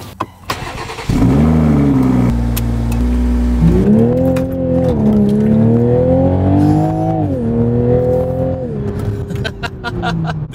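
A rebuilt Toyota GR Supra engine starts with a short burst, then revs in long rising and falling sweeps, loud and close, with cold tires mentioned.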